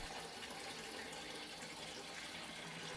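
Water drains from household pipes into a bucket after the main shutoff is closed during a water softener installation with PEX plumbing: a steady, continuous rushing flow, fairly close, with no talking.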